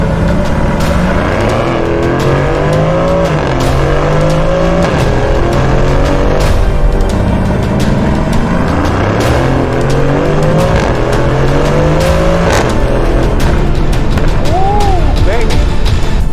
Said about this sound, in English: That exhaust sounds really good on the upshifts.